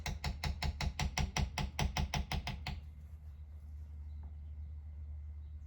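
About fifteen rapid, evenly spaced mallet strikes on a leather beveling tool, loud and close, stopping abruptly and leaving a quiet room hum.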